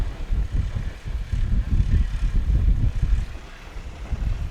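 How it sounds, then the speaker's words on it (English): A STOL light propeller aircraft at a short-takeoff competition in St. Joseph, Missouri, roaring at full power on takeoff, a loud, close, pulsing engine drone that rises and fluctuates throughout. "Full power, tails coming up, flaps will come in, and he's up."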